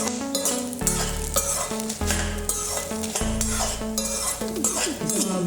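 Byadgi chillies roasting in a pan while being stirred, a steady close crackle and scrape running continuously under background music, with no talking.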